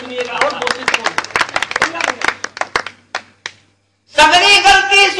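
Audience members at a Hindi comic poetry recital clap in loose, scattered bursts that thin out into a few isolated claps. After a short silence, a voice begins speaking.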